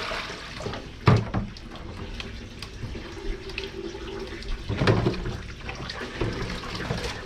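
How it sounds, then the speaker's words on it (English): Hot water running from a tap into a container, a steady splashing flow with a couple of louder clunks and knocks along the way. "I'm gonna fill this up with hot water and clean soap."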